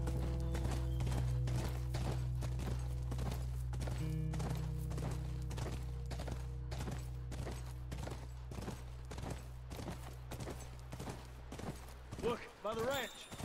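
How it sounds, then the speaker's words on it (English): Horse hooves clip-clop in The Last of Us video game, a steady, even rhythm of close, distinct hoofbeats over a low droning background, with speech at times and a neigh-like sound near the end. "This horse is slow. There we go, give it a kick."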